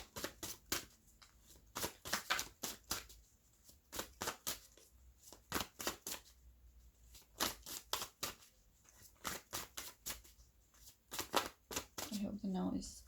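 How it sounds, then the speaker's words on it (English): Tarot cards being shuffled close by, a rapid series of crisp riffling bursts in an uneven rhythm, quiet overall, with a voice briefly speaking near the end. "I hope the noise of the cards is not too loud."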